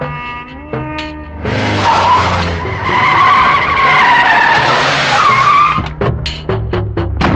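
In a film scene, a car's tires squeal and skid loudly for several seconds over engine rumble, followed by sharp bangs and clatter as the skid ends.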